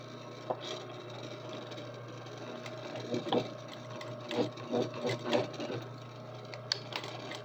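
Sewing machine stitching a short run near the top of a zipper, a steady close mechanical hum with a few louder bursts of needle chatter.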